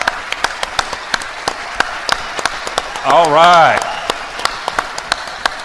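Scattered applause and cheering from an office audience honoring veterans at an annual awards show, sharp claps spread throughout with a brief voice calling out in the middle and a short spoken phrase.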